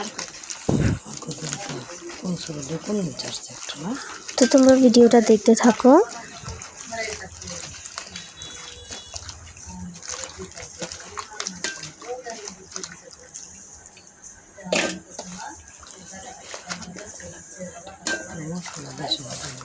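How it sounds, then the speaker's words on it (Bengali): Cut pieces of taro are rinsed in water, with sloshing and splashing that swells and fades over about twenty seconds while a voice talks throughout. "এখন এটাকে পানিতে ভালো করে ধুয়ে নেব দু তিনবার"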